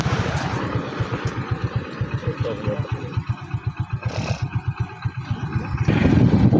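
Motorcycle thumps at idle in a steady, close, rhythmic beat that briefly slows and picks up before swelling louder at the end, with a voice speaking over it.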